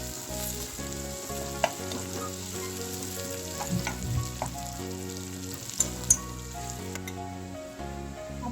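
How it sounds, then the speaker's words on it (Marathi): Chopped onion fries in oil with red chillies while being sautéed for a red amaranth bhaji, giving a continuous close sizzle with occasional stirring clicks and soft background music. "आता आपण त्यात कांदा घालून घेऊया कांदा छान गुलाबी होईपर्यंत परतून घ्यायचा आहे"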